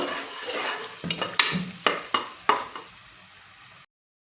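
Field beans (avarekalu) frying in a pan, a soft sizzle broken by a run of sharp, close spatula scrapes and taps against the pan, ending in abrupt silence.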